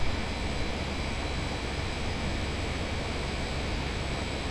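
Boeing 737 jet engines at takeoff in a flight simulator game with Swiss livery, a steady loud broadband roar that holds constant throughout with no speech.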